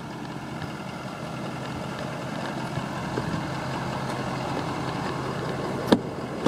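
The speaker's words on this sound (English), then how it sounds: "This vehicle started right up" A 2017 Ford F-350 Super Duty pickup, missing its tailgate, idles steadily at close range with a constant low engine drone, one brief sharp click near the end and no talking.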